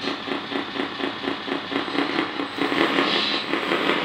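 Simulated engine sound from the speaker system of a 1/14 scale metal RC 8x8 hydraulic dump truck, starting up with a steady rhythmic chugging pulse that swells slightly louder partway through, with no talking.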